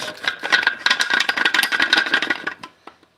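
A glass canning jar, holding peachick feed, being twisted off a KitchenAid mixer base, giving a close, busy run of rattling and scraping clicks that fades out near the end.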